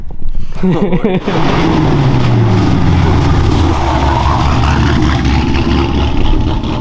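A cammed V8 engine being prepared for boost revs loudly and steadily nearby, its rough low rumble rising and falling, with voices talking over it throughout.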